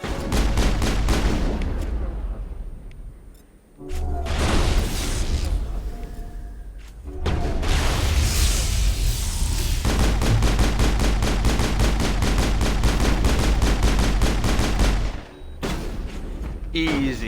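Heavy gunfire in the Mass Effect video game: rapid bursts of automatic weapon shots and loud booms ring out close and dense, pausing briefly, with voices in the game shouting between bursts.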